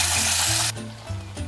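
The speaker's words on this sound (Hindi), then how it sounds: "ये अब मैं लज़ानिया सॉस है, इसको थोड़ा सा मैं पकाने लगी हूँ।" Lasagne sauce cooks in oil in a pan, giving a bright, steady sizzle for the first moment before it cuts off, leaving a quieter, low-pitched simmer underneath.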